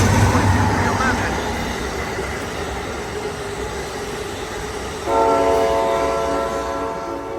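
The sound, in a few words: Amtrak Coast Starlight train passing, P42 locomotive horn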